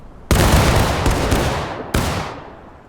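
Two roaring musket volleys fired by infantry in the Civil War video game War of Rights during a 15th Wisconsin Infantry drill, each a loud ragged crack with a long rumbling echo, the second following about one and a half seconds after the first.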